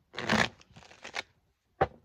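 Tarot cards being shuffled by hand, a few soft riffling bursts close up followed by a brief sharp tap, with short silences between.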